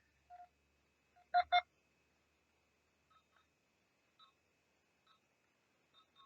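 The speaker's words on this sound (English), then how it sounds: "it makes what are described as authentic tricorder noises" Short electronic beeps and chirps from a toy tricorder, a quick cluster followed by sparse quiet blips spaced apart in near silence.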